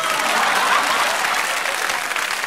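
Applause from a studio audience on a French radio comedy panel show after a bagpipe imitation, a loud, dense burst of clapping that stays even throughout.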